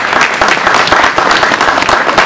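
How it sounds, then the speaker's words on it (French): Loud, close audience applause at a Congolese tourism week ceremony in Kolwezi, dense rhythmic clapping from a large crowd filling the whole stretch. "Applaudissez."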